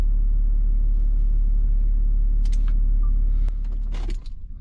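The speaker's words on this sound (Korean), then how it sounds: "이렇게 시동을 껐습니다" A Hyundai Veracruz 4WD with a high-mileage S1 engine is shut off: a steady close idle rumble runs for about three and a half seconds, then drops away after a click, with a few faint clicks and mechanism sounds as it falls quiet.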